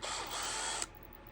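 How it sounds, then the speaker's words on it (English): A small drill bit spins up to make a hole for a zip tie on a Power Wagon build for a 1/24-scale SCX24 RC crawler, one short, faint, high whir that stops abruptly. "put a little drill bit in here"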